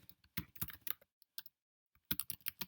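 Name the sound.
typing on a computer keyboard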